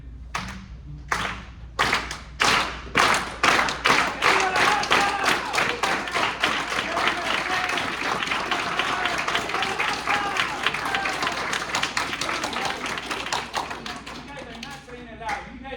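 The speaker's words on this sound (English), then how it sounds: "And that is the Chicano unity hand clap" A crowd at UC Riverside performs the Chicano unity hand clap, starting with a few slow, separate claps that speed up steadily into loud, rapid, continuous clapping. Voices rise around it.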